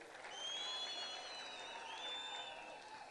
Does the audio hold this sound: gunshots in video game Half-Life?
no